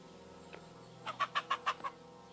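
A cockerel crows in Kingdom Come: Deliverance II, a single clear, close call of several rapid pulsed syllables rising out of quiet ambient game sound after a faint earlier cluck.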